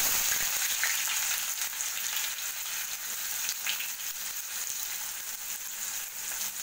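Onions sautéing in plenty of hot oil after mustard seeds have popped, a loud, dense, continuous sizzle with faint crackles and occasional stirring scrapes, close and steady for the whole stretch.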